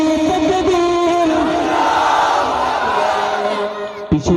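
Crowd at an evening hamd and naat gathering roaring a collective chant together, a loud sustained mass of voices that holds steady for several seconds and then breaks off into scattered shouts near the end.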